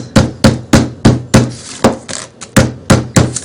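Rapid, evenly spaced hammer blows flatten tin foil on concrete, about a dozen loud, close thwacks in a steady rhythm with a brief uneven stretch midway.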